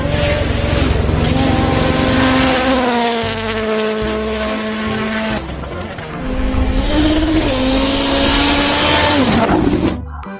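A toy race car gives off a loud, buzzing electronic whine whose pitch rises and falls in two long bursts, dipping briefly in between and cutting off at the end.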